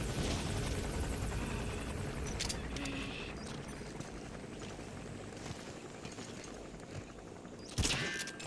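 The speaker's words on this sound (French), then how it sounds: "Puis il y a l'hélico en haut là." A helicopter hovers overhead in the Metal Gear Solid V video game, a steady rumbling drone that holds throughout at moderate level with occasional faint clicks and brief game sounds over it.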